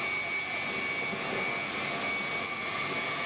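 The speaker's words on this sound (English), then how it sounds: "This one is our freezer compressor." Freezer compressor of a 5-ton tube ice machine running, a steady mechanical hum with a sustained whining tone, continuous and even with no speech.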